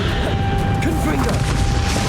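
A Confringo blasting spell explodes in the Hogwarts Legacy video game, producing a dull boom with crackling debris that sits inside a dense, continuous wash of battle noise and game music.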